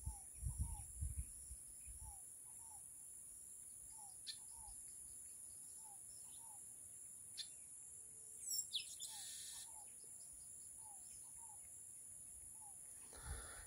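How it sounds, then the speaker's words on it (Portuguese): Birds chirp in short, repeated calls beside a small, shallow reservoir in the dry backcountry, fairly faint against a steady high insect hum, with a few louder bursts near the end. "ao cantar dos pássaros"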